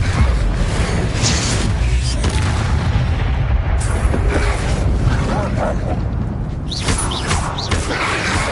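Booming spell blasts from the Confringo fire spell in Hogwarts Legacy, a dense loud rumble of explosive impacts and mechanical clatter filling the whole stretch, with other game effects layered over it.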